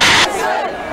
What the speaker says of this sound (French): Et applaudissements pour Barack Obama qui a ordonné l'exécution d'Oussama Ben Laden